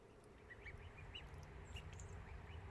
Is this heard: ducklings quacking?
yes